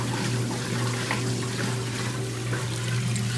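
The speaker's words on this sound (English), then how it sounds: "With this one, you see it's just discharging its water nice." A washing machine pumps out its wash water, a steady continuous gush and splash of draining water with a low constant hum underneath, close and unbroken throughout.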